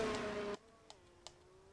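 A racing car pulls out of the garage in a sim-racing league round at the Azerbaijan circuit, its engine loud and close for about half a second before cutting off, followed by faint, brief mechanical clicks.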